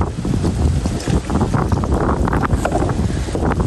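Strong wind buffets a small fishing boat at sea during crab catching, a loud, steady broadband roar of gusts and microphone wind noise with water sloshing beneath, no voices.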